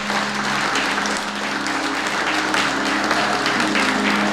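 Loud, sustained applause from a church congregation fills the space evenly from start to finish, with a faint steady tone underneath.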